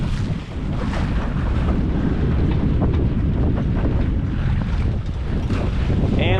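Gusty wind roars across a microphone on a sailboat under sail, a loud, continuous buffeting rumble that swells and eases slightly, with faint water wash beneath and no voices.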